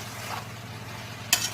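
Curry with rock salt is stirred in a pan over a low, steady sizzle, ending in one sharp scrape of the spoon near the close. No one speaks.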